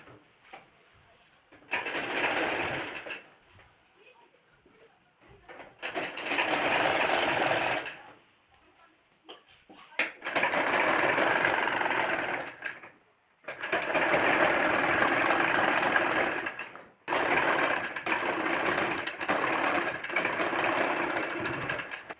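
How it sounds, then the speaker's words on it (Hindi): Bursts of a domestic sewing machine stitch the side seam of a churidar pajama, five separate runs of steady mechanical whirring split by short quiet pauses, close and fairly loud. "तो ये देखिए हमने एक साइड सिलाई लगा लिए हैं"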